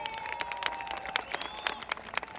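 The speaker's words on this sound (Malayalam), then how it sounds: "അതിന് കൊടുക്കണം ഒരു വലിയ കൈയടി" Applause from an audience fills a hall at the Gulf Madhyamam 25th anniversary event at Lifepark Dammam. The clapping is dense and fairly faint, with sharp claps rising and falling, heard over a faint steady tone.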